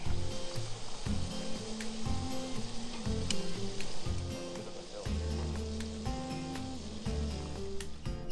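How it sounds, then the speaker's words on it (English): Bacon and eggs fry in a pan at a roadside stop, a steady crackling sizzle heard beneath a loud, rhythmic music track with a repeating bass pattern. "We're parked on the side of the road, cooking bacon and eggs and making coffee."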